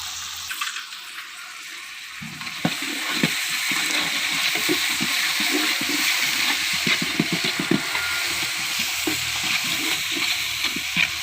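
Ginger and garlic frying in hot ghee in a pan for ghee rice, a steady close sizzle with soft scraping stirs running throughout, no talk.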